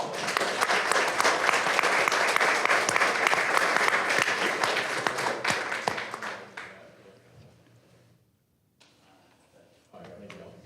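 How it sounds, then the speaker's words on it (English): Audience applause at a city council meeting: a dense, steady round of clapping fills the room for about six seconds, then tapers off into quiet with faint room noise and a brief sound near the end. "Give these folks a round of applause."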